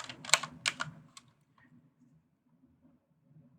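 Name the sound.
computer keyboard typing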